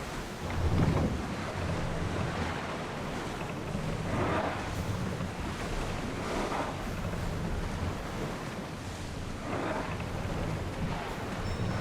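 A sailing ship leaving harbor at sea in Assassin's Creed Odyssey, with a continuous wash of wind and waves, creaking hull and periodic surges of water, steady and immersive with no speech.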